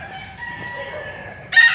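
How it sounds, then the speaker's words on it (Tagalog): Many noisy chickens on a rural property with rambutan trees: a rooster crows in a sustained call, and a louder, nearer crow or squawk breaks in at the end, fairly close with no talk. "ang iingay na mga manok. Sobrang dami ng manok dito."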